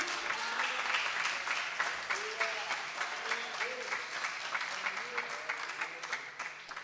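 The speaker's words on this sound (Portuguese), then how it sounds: "Dá o melhor aplauso que você pode" A church congregation claps steadily and enthusiastically during a revival service, the applause continuous throughout, with voices calling out and cheering over it.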